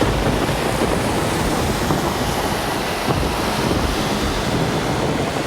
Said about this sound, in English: The roar of the rain thrown off metal fire escapes, empty trash can lids and cold concrete